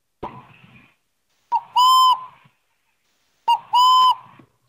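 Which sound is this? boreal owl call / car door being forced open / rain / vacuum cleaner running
boreal owl call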